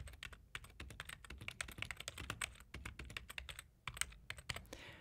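Quick, uneven keystrokes rattle on a computer keyboard, close and soft, a dense run of clicks with brief pauses between bursts.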